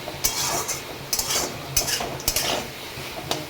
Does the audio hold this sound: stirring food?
yes